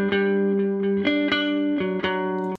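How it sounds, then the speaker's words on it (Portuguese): An acoustic guitar is picked in ringing single notes and sustained tones, the sound washed with delay repeats and reverb, played solo and close for a few seconds. "já tá com delay, com reverbzinho, já mando o meu som aqui"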